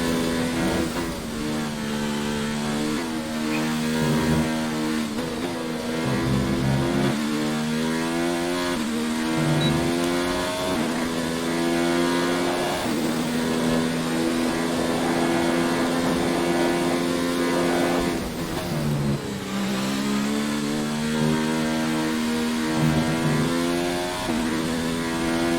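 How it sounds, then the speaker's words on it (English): A high-pitched modern Formula 1 car engine in the video game F1 2019 screams continuously, rising and falling in pitch through gear changes, loud and close, with no talking. "you can hear the way that the sort of various parts of the engine will react"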